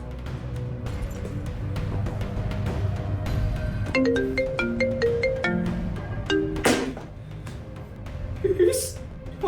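Melodic phone ringtone playing for an incoming call, a repeating sequence of bright tones starting midway, heard over a busy indoor background of clatter and murmur.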